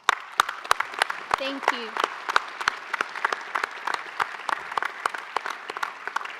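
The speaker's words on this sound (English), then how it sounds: "joining me in giving them a warm round of applause" A graduation audience in Brisbane claps warmly and steadily, sharp individual hand claps standing out over a dense, sustained round of applause, while a voice briefly speaks over it near the middle.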